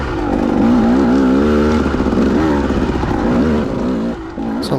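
Motorcycle engine revving hard on a trail ride, a loud, continuous throttle note whose pitch wavers and surges up and down, close and steady throughout before a brief dip near the end, with no talking.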